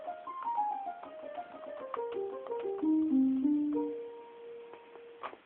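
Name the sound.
circuit-bent Casio SA-1 piano tone muffled by tone control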